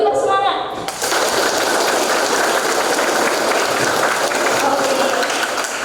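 Energetic clapping from a large school audience at a waste-hazard awareness session, a dense roar of hands running steadily after a brief voice at the start.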